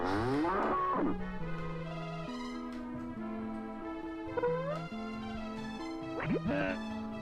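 Cartoonish cow moos from the SNES game Earthworm Jim 2, several long low lowing calls broken by squeaky sliding effects, loud and clear with no speech.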